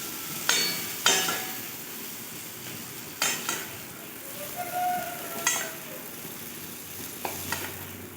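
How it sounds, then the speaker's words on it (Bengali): Prawns fry in oil in a pan while being stirred, giving a soft steady sizzle broken by several sharp scraping and clinking stirs, close by with no talking. "চিংড়ি মাছ কিন্তু খুব বেশি ভাজারও দরকার নেই, অল্প করে ভেজে নিলেই হবে।"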